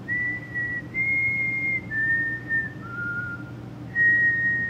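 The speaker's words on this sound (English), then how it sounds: "Can you whistle the Close Encounters theme song?" A person whistles the Close Encounters theme, sustained pure notes stepping up and down in a short phrase with a pause before the last tone, close and clear over a low background hum.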